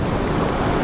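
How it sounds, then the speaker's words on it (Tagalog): Big waves wash and rumble on the far side of an island, making a loud, steady broadband roar mixed with wind buffeting the microphone. "Parang malalaki na yung alon dito sa kabila."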